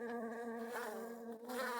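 Bees in the game Who Owns A Hive give off a close, steady buzzing drone that wavers slightly in pitch, with nothing else heard.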